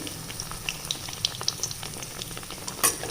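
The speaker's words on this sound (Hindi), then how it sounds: "इसे डीप फ्राई करना है" A snack deep-frying in hot oil in a home kitchen, a steady bubbling sizzle with scattered crackles and pops.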